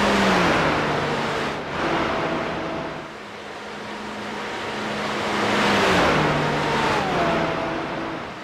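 Aston Martin GT4 race car engine in iRacing, a steady rising and falling drone with shifting pitch as the gears change, continuous and fairly loud throughout, with no voices.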